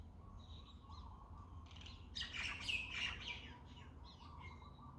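Birds call and squawk against a steady low background rumble, with a busier burst of harsh calls in the middle before things settle back to scattered chirps.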